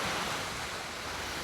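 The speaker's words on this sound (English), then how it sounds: "A wall of icy water rushing towards homes." Icy floodwater rushes toward homes near Orenburg, Russia, a continuous loud roar of churning water mixed with wind, with no voices.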